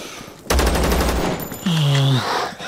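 Sniper rifle gunfire in the video game Zero Sievert, a loud burst of rapid repeated shots followed by a sharp tonal electronic tone, up close and alone with no talk.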